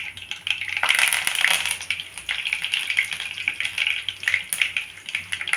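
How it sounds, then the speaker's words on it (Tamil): Mustard seeds splutter and crackle in hot oil in a pan, a dense, lively sizzling with scattered popping bursts heard up close and alone. "எண்ணெய் காஞ்சதும் கடுகு போட்டுக்கணும்."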